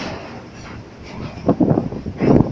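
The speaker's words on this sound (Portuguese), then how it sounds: "Olha que trem que nunca acaba" A long train passes by at close range, a low rumbling roll with rhythmic clatter of cars that grows louder toward the end, no speech over it.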